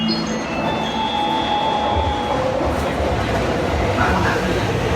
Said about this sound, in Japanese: まもなく7番線に上野東京方面行きが参り、 電車到着です。